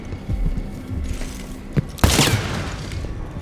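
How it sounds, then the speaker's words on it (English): Gunfire in the stealth action game Dishonored 2: a sudden loud burst of shots and impacts around the two-second mark, preceded by softer thuds and clanks, with no talk. "Someone's shooting at us!"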